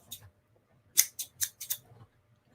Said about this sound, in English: So, scissors.